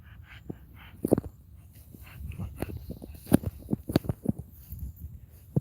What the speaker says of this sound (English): That's my dog, Grey Goose.